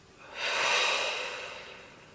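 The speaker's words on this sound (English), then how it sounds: "Take a deep breath in and a deep breath out." A single deep breath drawn in and let out, a soft airy rush that swells and fades, close and quiet, alone without talk.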